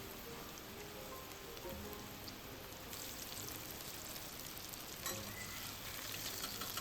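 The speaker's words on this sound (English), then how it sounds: "Add in the bell peppers. Stir fry on high heat for about 3 minutes" Bell peppers stir-fry in cooking oil in a pan over high heat, giving a steady, faint, rain-like sizzle that continues without a break.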